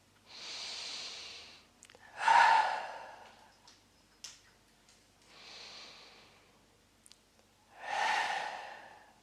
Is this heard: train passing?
no